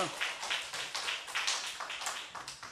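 A congregation claps at a Korean evening revival church service, rhythmic hand claps in quick regular beats, moderately near and fairly quiet, with no speech.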